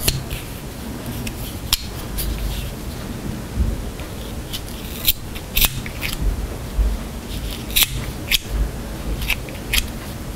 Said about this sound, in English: And then you trim the edges.